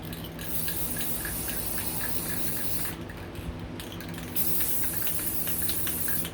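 Rust-Oleum matte spray paint hissing from the can onto a decorative picture in a long continuous spray, briefly cutting out twice before resuming, loud and close with no voices.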